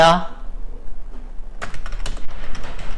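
Rapid clicks of a computer keyboard being typed on while working in MS Word, a crisp close burst of keystrokes after a short spoken phrase.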